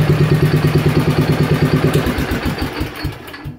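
Worldlawn 28-inch walk-behind mower engine running with a fast, even, close putter that slows and drops off toward the end as the throttle is eased back.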